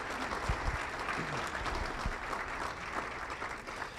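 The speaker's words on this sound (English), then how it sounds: "Let's give Dave a round of applause for that." A modest room of diners at a Rotary luncheon applauds steadily, moderate clapping with a few distinct nearby thumps and faint murmurs beneath it.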